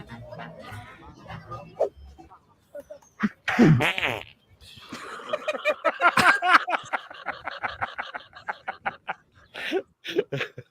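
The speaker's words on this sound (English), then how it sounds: "Did he really fart? I think he fart." A loud, rumbling fart bursts out amid casual chatter, with people chuckling and talking around it in short bursts.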